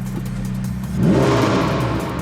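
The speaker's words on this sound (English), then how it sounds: "I'm gonna let you guys hear the exhaust sound one last time." A modified Ferrari F8 Spider exhaust idles with a deep burble, then revs sharply into a loud, raspy roar that holds steady, recorded up close.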